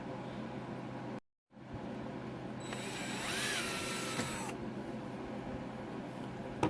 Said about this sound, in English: take I believe it's an 1/8 inch drill bit, and just drill that hole out for 1/8 inch